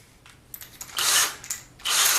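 A power drill whirs in short bursts, two longer runs between quick clicks, driving a screw into a TV antenna pole mount close by.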